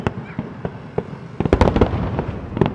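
Fireworks bursting at the 31st Macau International Fireworks Display Contest, a loud run of sharp cracks and booms that thickens into a dense crackling volley, heard from the crowd.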